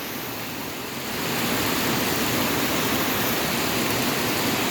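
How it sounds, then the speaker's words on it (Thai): Dense, steady hiss of heavy rain pouring down in rural Thailand, swelling louder after the first second and holding constant without a break. "ฝนตกหนัก"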